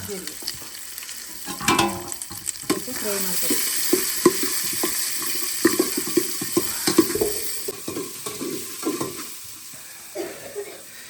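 Sambar onions and cumin fry in a pan for a huli mudde dish from Kollegala. A steady sizzle runs under frequent spatula scrapes and knocks, with occasional muffled voices nearby.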